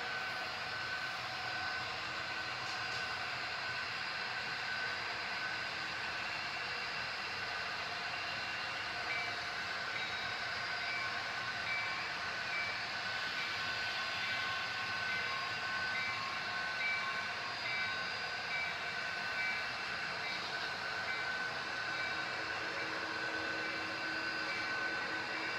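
A Santa Fe freight train rolls past on a model railroad layout, giving a steady mechanical rumble and whir that holds at an even level. The sound continues unbroken, with no voices.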